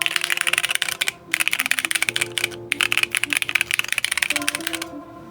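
A repaired Keychron K8 mechanical keyboard is typed on in fast, loud bursts of crisp key clacks, with two short pauses between runs and no talk over it.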